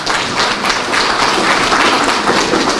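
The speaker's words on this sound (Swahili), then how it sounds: "makofi kwa Musingu" Steady applause and clapping from a gathered crowd honouring Musingu High School's regional champion boys' soccer team at a send-off ceremony for Kakamega teams at Golf Hotel, a dense continuous patter lasting throughout.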